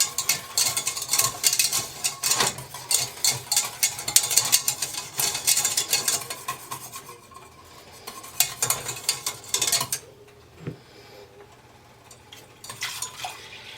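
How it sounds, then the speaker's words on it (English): Milk being whisked into a cooked flour roux for a chicken cordon bleu casserole sauce: a busy stream of scraping, clicking whisk strokes against a pot, steady for several seconds, then thinning into a few scattered taps. "I'm going to slowly whisk in my milk"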